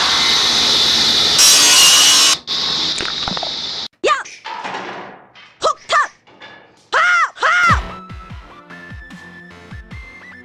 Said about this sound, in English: So Dad's gonna cut the trim pieces for our mirror